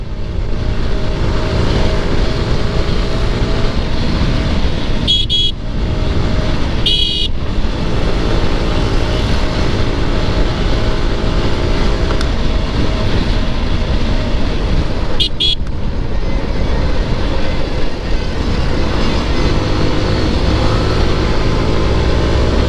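Yamaha R15 motorcycle ridden through city traffic, a steady loud engine and road drone throughout with a few short honks from nearby vehicles.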